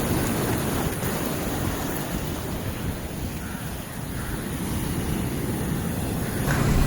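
Large sea waves crashing at Moorkkam beach in Point Pedro, a steady loud roar of surf with wind buffeting the microphone throughout, rising slightly at the end, with no talking.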